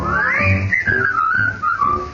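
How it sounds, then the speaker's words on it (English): A person whistles a bright, lilting tune alone, a clear melodic line rising and gliding between notes in a short phrase, close and moderately loud with a faint accompaniment underneath. "Whistle your blues and whistle your cares and whistle your troubles away."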